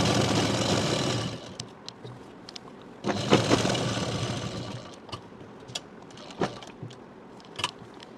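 Sewing machine stitching a short kurti with a front knot neck, running in a loud continuous burst for about a second, pausing, then a longer steady run, followed by scattered short clicks and brief mechanical taps.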